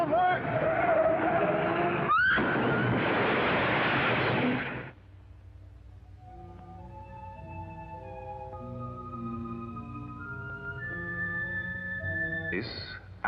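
A car with failed brakes skids loudly on the road for several seconds with screeching tires and engine noise, then gives way to dramatic orchestral music with a short skid burst near the end.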